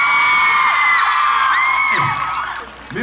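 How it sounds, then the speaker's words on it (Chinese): A crowd at a book launch event erupts in loud, close shrieks and high-pitched whoops of cheering, sweeping up and down over a few seconds, with a voice briefly audible among them. "掌声鼓励。"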